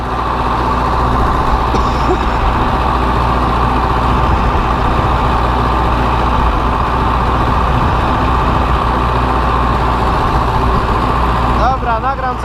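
An Ursus C-4011 tractor engine works a clay field during tillage. Its loud, close, steady diesel drone holds at an even pitch and hardly changes.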